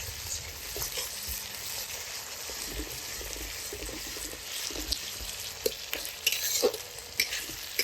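Garlic and ginger paste is stirred in a pan with a soft continuous sizzle, spoon scrapes and knocks growing louder and more frequent toward the end.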